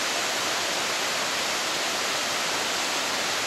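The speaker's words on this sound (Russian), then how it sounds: "Такой вот удивительно красивый водопад здесь активен." A waterfall on the Bezurinka river pours with a dense, even hiss and roar, steady and close, filling the whole moment without pauses or voices.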